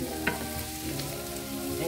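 Potatoes with bell peppers and onions frying in a cast-iron pan, a steady close sizzle with a brief stirring scrape near the start.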